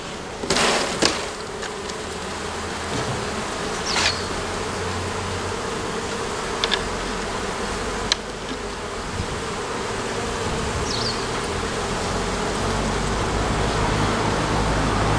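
Honeybees swarm around an open hive, giving a dense, steady, close buzz throughout, with a few faint clicks and knocks from handling the hive.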